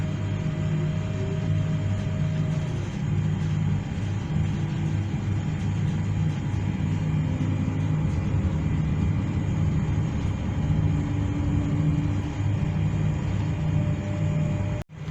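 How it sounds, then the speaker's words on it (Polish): A steady low rumble and drone of a Koleje Śląskie train pulling out of Gliwice station, with faint whining tones rising and falling, continuous throughout and cut off abruptly at the end. "pociąg rusza ze stacji Gliwice"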